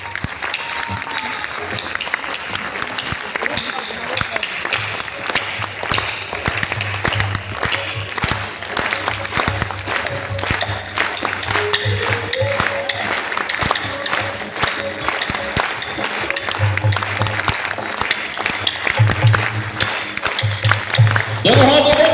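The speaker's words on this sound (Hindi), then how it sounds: "आनंदम ताली जरा बजा के दिखाओ।" A large audience at a Hindu religious discourse festival claps together in the rhythmic Vrindavan 'anandam tali' style, a dense sustained patter of many hands with a steady beat. Music and voices sound faintly underneath.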